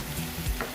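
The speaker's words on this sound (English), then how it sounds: "let them start cooking just a little bit, and then start whipping your eggs in the pan" Eggs cooking in a hot pan while being whipped and folded, a steady sizzle with a stirring scrape in a brief burst.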